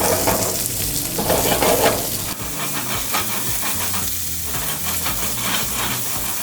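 Langoustine heads roasting slowly in a pan as the base of a lobster sauce, giving a steady, close sizzle and hiss with faint stirring scrapes throughout, no voices.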